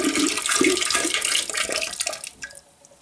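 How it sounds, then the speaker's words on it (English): Antifreeze pours and splashes into water in a toilet bowl with a continuous gurgling stream that tapers off into a few faint drips. "this is where you pour a little bit of antifreeze in"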